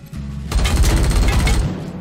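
Turret fire in the game Wasteland 3: a dense, loud burst of rapid automatic shots rattling for over a second after a short lead-in, then cutting off.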